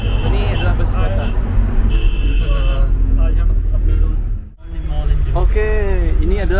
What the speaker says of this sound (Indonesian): Ini adalah bus kota